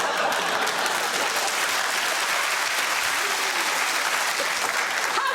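A television studio audience on the quiz show QI breaks into dense, sustained applause, loud and even from start to finish, with no pause.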